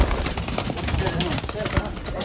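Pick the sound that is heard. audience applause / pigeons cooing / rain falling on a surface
pigeons cooing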